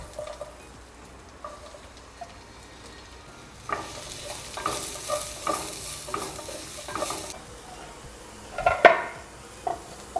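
Onions with ginger, cinnamon and red chili frying in olive oil; quiet sizzling builds as a utensil stirs and scrapes the pan, ending with a sharp clank against the pot, with no talking.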